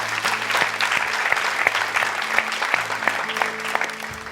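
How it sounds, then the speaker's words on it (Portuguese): Strong applause fills a church congregation, dense and steady from start to finish, with a sustained organ or keyboard chord underneath and a few faint voices mixed in. "Dê um aplauso bem forte a Deus"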